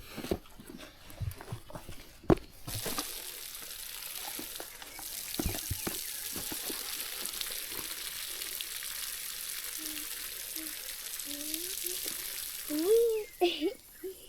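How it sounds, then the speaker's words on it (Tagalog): Strong water running from a tap, a steady hissing rush with clattering knocks early on and voices speaking briefly near the end. "Lakas tubig, no? Malakas tubig na yun."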